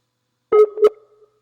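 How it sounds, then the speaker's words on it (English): A Skype call rings with two short electronic tones in quick succession, clear and close against silence. "Ringing in John Waters again."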